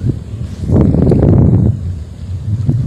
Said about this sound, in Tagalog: medyo mahangin na lakas na ang hangin